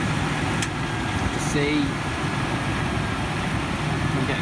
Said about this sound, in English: Bringing the engine up to temperature